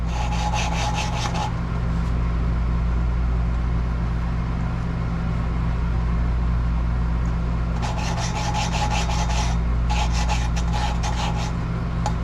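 Valves from a 1992 Ducati 900SS being hand-lapped in the cylinder head, with bursts of gritty rhythmic rubbing at the start and again later over a steady background hum.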